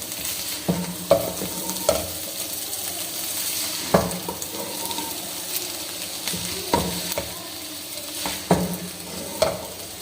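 A moongre, potato and pea vegetable curry is stirred in a pan while it fries, with a steady sizzle and repeated sharp scrapes and clinks of the spoon against metal, close and continuous.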